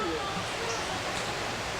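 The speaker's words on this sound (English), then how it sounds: "I can hear the waterfall." A steady broadband rush of a waterfall or river in the Dominican Republic near Las Terrenas, a constant hiss heard from a distance with no breaks, and faint traces of voices within it.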